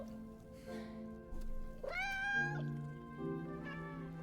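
A cat in the video game Split Fiction meows several times in a row, rising and falling in pitch, clear and fairly close with little else around.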